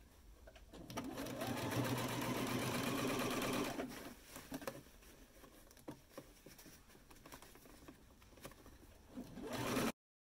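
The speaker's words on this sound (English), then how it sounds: "we're going to sew it down" Sewing machine stitching down elastic: a steady close motor whir with rapid needle chatter for several seconds, then stopping and starting in short bursts with soft handling noises, and a final loud run.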